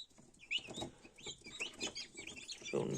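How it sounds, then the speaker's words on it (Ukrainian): Newly hatched chicks and turkey poults peep and chirp in high, thin bursts, with a few soft clucks mixed in, close by and fairly quiet. "Курчат, індичат, цесарят."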